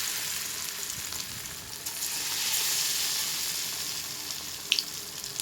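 Chicken pieces deep-frying in a wok for chili chicken give off a steady, dense sizzle and crackle that runs throughout. A brief sharper spatter pops out near the end, with no voices over the frying.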